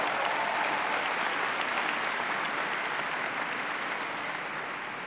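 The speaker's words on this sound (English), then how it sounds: "Give a round of applause." A commencement audience at George Mason University's winter ceremony breaks into sustained applause, a full, even wash of many hands clapping that tapers slightly toward the end.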